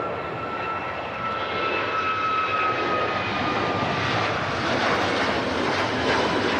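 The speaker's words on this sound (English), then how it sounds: "that's the Aer Lingus service on its way to JFK" An Aer Lingus airliner taking off from Manchester Airport bound for JFK, a broad, steady jet roar at a moderate distance that holds level and swells slightly throughout, with no talk over it.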